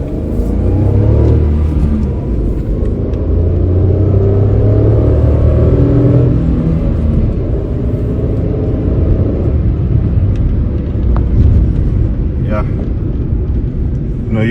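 A Renault Kwid accelerates hard in first gear, its engine rumbling and revving up loudly from close by inside the cabin, with a voice talking over part of the run.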